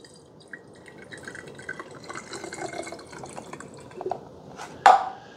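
Water poured into the reservoir of a Mr. Coffee steam espresso and cappuccino maker, a faint trickling and dripping that builds to a brief louder splash near the end.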